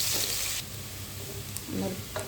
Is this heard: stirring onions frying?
yes